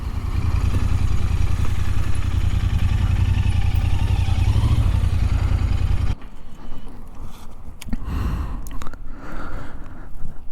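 Interceptor 650 motorcycle fitted with a Red Rooster exhaust, its engine giving a loud, steady, deep rumble up close for about six seconds, then dropping to a quieter, uneven idle with some clattering.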